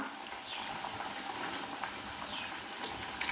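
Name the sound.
mango egg curry boiling in pan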